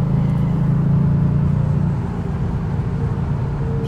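A 2018 Kia Stinger GT2 RWD engine hums as a steady low rumble inside the moving car, dipping slightly after a couple of seconds and then carrying on evenly.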